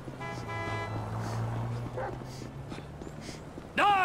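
A dog barks in the video game GTA V, a few sharp yelps over a steady tonal hum and game ambience, with a louder bark-like burst near the end.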